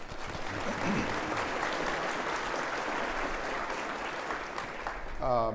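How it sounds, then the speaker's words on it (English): Sustained, dense applause from an audience at a county commissioner's State of the Precinct event, steady broadband clapping for several seconds before a voice returns at the end. "Let's give her a nice round of applause."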